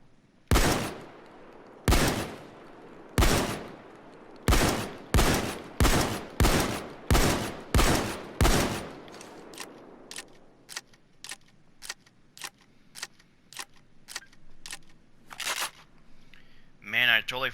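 Reinfeld 880 pump shotgun firing in Payday 2: about nine loud, evenly spaced blasts with short decaying tails, followed by a run of quieter sharp clicks and racking sounds.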